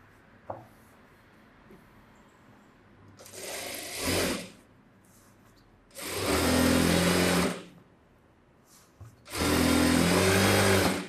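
Three loud, close bursts of a sewing machine stitching a blouse, each a few seconds long and separated by quiet pauses with faint handling clicks.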